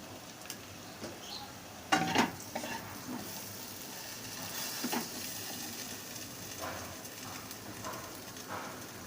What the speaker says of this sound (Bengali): আলু বেগুনটা ভালো মতন ভাজা হওয়ার জন্য একটু দিয়ে দিলাম লবণ আর একটু হলুদ গুঁড়া